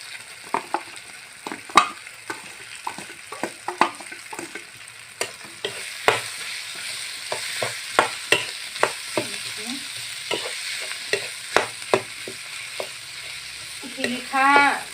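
A potato mixture fries and sizzles in a pan for an Assamese haritaki and fish curry, with a steady sizzle under repeated sharp scrapes and taps of a spatula stirring it, close up and without talk.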